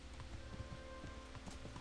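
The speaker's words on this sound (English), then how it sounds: "This game is very rainy." Steady rain falls in the medieval video game Kingdom Come: Deliverance, a soft, continuous patter that stays even and fairly faint throughout, with no talking over it.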